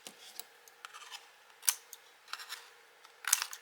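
Scissors snip across a paper card handle for a briefcase-shaped gift card, a few crisp separate cuts with light paper rustle between them, close and clear with no talking.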